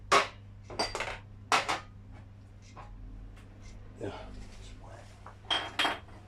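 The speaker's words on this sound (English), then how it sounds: "We put our ramekins in there like that, so they're in there" Ceramic ramekins set down one at a time into a metal oven roasting tin, a handful of close, sharp clinks and knocks spaced across a quiet kitchen with faint background hum.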